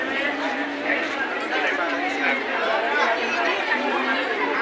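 A packed market street at Dhanteras, where flower garlands are sold, carries thick, steady crowd babble from many nearby voices, with no single sound standing out.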